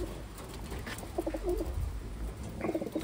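Pigeons coo in a low, rhythmic, burbling way over a steady background hum, with a few short call bursts clustered near the middle and at the end.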